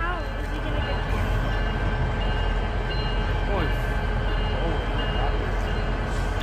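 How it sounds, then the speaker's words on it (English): Steady rumble and rolling clatter as a train passes through a railroad crossing in Skagway, heard from nearby at moderate level, continuous throughout with faint squeals over it. "Waiting for this train to move out of the way so I can hit downtown."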